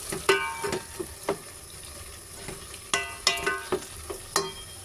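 Vegetables tossed into a pan of frying chicken mince sizzle steadily while a utensil scrapes and stirs in irregular sharp clinks and scuffs, close and clear.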